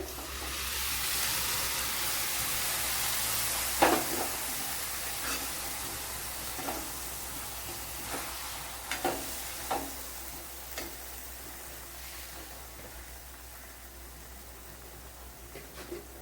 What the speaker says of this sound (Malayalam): ഇനി ഇതിലേക്ക് വെന്തിരിക്കുന്ന പയറും ഒഴിച്ചു കൊടുക്കുക ഇപ്പോൾ പയറും എന്താ വെള്ളത്തോടെ ഞാനിപ്പോൾ ഒഴിച്ചു കൊടുക്കുകയാണ്